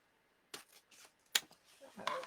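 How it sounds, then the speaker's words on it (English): Scissors snip through ribbon for a Mardi Gras grapevine wreath, a few quick, sharp cuts with a rustle of ribbon close by, separated by brief pauses. "let's cut the ribbon"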